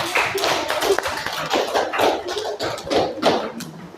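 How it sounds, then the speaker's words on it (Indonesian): A classroom group gets a short burst of clapping, a few seconds of quick scattered claps from the students with a little voice mixed in. "Tepuk tangan untuk kelompok 1."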